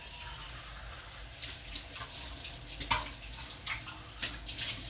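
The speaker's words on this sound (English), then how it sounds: "I'm going to add a bit of water" Water pours into an Instant Pot of Filipino beef sinigang, a steady, close splashing stream with a few brief louder gushes, and no talking.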